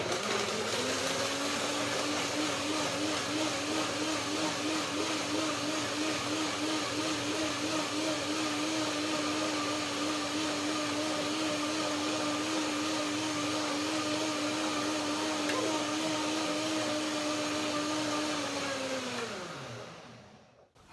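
A kitchen blender whirs steadily as it blends cashews with a droplet of water for a banana cream, a loud continuous motor drone that holds for about twenty seconds, then winds down and stops.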